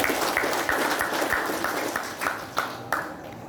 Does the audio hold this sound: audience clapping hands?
yes